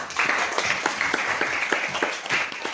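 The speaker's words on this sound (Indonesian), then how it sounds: "Kita berikan tepuk tangan dulu untuk kita semua" Students in a classroom clap together, a close, lively run of applause with an even, roughly rhythmic pulse that carries steadily throughout.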